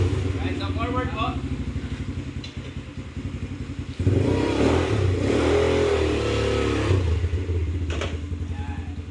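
A 200cc 4x2 ATV engine starts and revs, a close, loud, pulsing mid-range growl rising and falling across several throttle blips, with a person talking over it.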